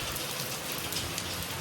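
Steady rain falls close by, a dense, even hiss of drops hitting a surface that continues unbroken with no voices.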